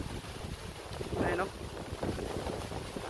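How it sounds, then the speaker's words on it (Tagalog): Strong wind buffets the microphone over the rush of waves on a seashore, with a voice speaking briefly in the middle. "Lakas ng alon guys, lakas din ng hangin."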